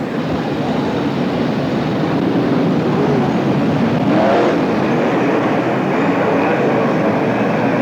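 Sprint cars race past the start-finish line and down the back straightaway at Marysville, California, a sustained loud engine roar that swells as the pack passes near, then carries on steadily.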